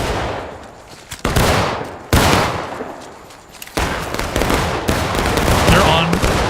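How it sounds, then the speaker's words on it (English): Loud, sustained gunfire rolls across an outdoor field during an airsoft or mock battle at a railroad cut, with overlapping bursts and rapid volleys, while a voice calls out under the shooting. "And they're shooting south."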